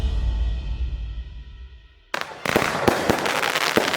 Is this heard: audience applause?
no